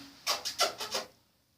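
Pet cat Kanzu scrambling at the side of a bathtub, giving five quick scraping, rubbing bursts of claws and paws close by, then going quiet.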